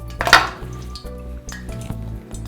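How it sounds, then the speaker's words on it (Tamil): Hot oil tested for frying thayir murukku dough: a bright sizzle bursts near the start, followed by a softer bubbling hiss with light clinks of metal utensils, close by and without talk. "இப்போ எண்ணெய் சூடாக இருக்கான்னு பார்க்கலாம்."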